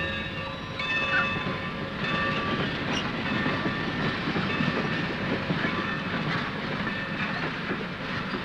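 A train rolls steadily along the rails with a continuous rumbling clatter and rhythmic clicks from the wheels, heard alone at moderate distance for several seconds.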